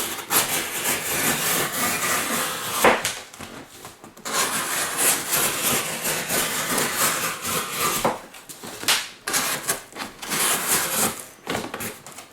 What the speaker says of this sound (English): it's buttery smooth going through this cardboard